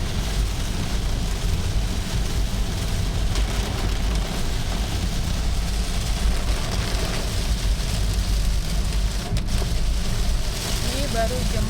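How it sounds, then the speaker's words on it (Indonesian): Heavy rainstorm in Serpong, a dense steady roar of rain pouring down for the whole stretch, loud and close, with no talking. "Hujan badai."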